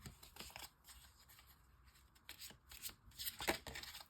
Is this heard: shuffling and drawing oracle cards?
yes